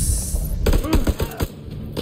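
Gunfire in the video game House of Ashes: a rapid string of sharp, close, loud shots that crack one after another over about two seconds.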